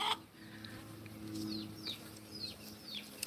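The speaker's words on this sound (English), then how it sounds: "I've got chickens making noises." Backyard garden chickens cluck and make short chirping calls several times, moderately close against a quiet outdoor background with a low steady hum.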